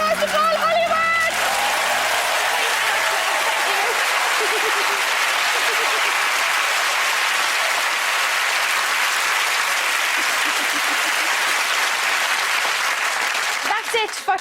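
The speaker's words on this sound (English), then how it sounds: "Just give a big round of applause to Paul Hollywood" A television chat-show studio audience applauds baker Paul Hollywood with a full, sustained roar of clapping that holds steady for about fourteen seconds before fading at the very end.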